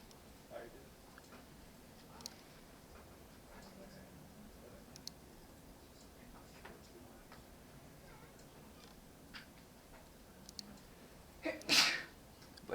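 A single sharp sneeze near the end, loud and close, breaking through an otherwise quiet indoor background of faint clicks and ticks.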